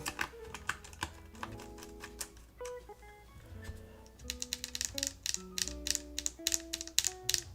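Typing on a Tofu65 mechanical keyboard with tray mount and HMX switches, a quick run of clacky keystrokes that starts sparse and builds into a dense, sharp rhythm, close and clear.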